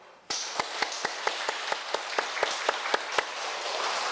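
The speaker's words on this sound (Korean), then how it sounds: "다시 한번 영광의 박수를" Slow, rhythmic clapping from a church congregation, about a dozen evenly spaced claps over a broad hiss of crowd noise, moderately close and with no talking.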